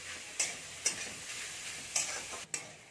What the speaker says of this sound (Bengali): গাজরটাকে আমি একটু নাড়তে থাকবো।